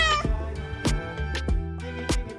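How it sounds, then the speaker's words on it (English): A domestic cat meows several times in a row, each call a clear, close, rising-then-falling tone with short gaps between, loud and alone with no talking. "Cat, soft and cute."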